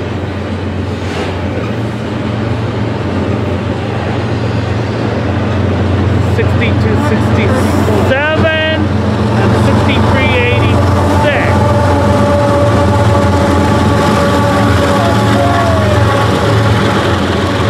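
Freight trains pass through Fullerton with a loud, continuous rumble of engines and rolling cars and several sharp high squeals and tones partway through, with someone talking over it.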